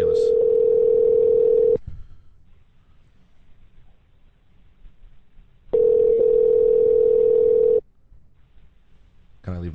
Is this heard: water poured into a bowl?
no